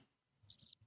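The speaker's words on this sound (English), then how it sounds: "I turned the crickets up just a bit." Crickets chirping as a sound effect: a single quick burst of three bright, closely spaced chirps, clean and isolated against silence.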